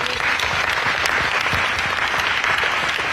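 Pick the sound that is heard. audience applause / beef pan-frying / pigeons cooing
audience applause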